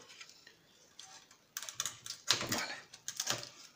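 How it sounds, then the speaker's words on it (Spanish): Keyboard is taken out of a Panasonic FS-A1 MSX computer, heard as faint plastic ticks and clicks that turn into louder, irregular clattering and snapping in the second half, with no talking. "Vamos a sacar el teclado."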